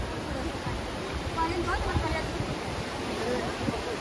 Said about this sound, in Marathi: समुद्राचा खूपच आवाज आहे त्यामुळे थोडं व्हिडिओमध्ये प्रॉब्लेम येऊ शकतो